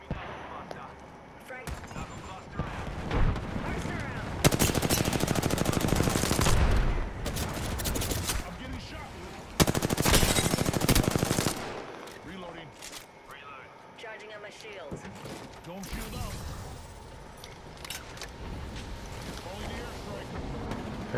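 Gunfire from the video game Apex Legends comes in bursts of loud, dense shots, strongest in two sustained volleys near the middle, with quieter shots and game noise around them and players talking throughout.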